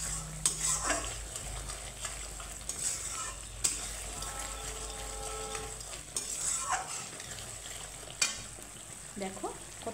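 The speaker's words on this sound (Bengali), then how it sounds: "তো এখানে আমার মশলাটা কিন্তু ভালো করে কষিয়ে নিতে হবে।" Spice masala for a vegetarian yardlong bean (borboti) curry stirred and sautéed in a pan, with a spoon scraping and clinking against the metal over a low steady sizzle, in irregular strokes.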